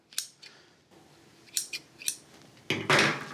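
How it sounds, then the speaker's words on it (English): Garden shears trimming the wild edges of a moss ball planter, several close, crisp snips spaced irregularly, followed by a louder rustle of moss and handling at the end. "taking my shears and just trimming off some of those wild edges that we don't wanna see hanging out"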